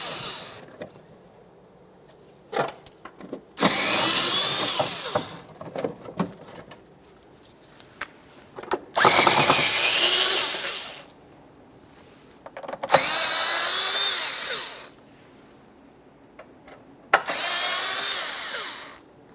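A power tool spins out 10mm-headed bolts holding the inner fender liner of a 2011-2020 Toyota Sienna, with several loud, close whirring bursts of a few seconds each, separated by short pauses.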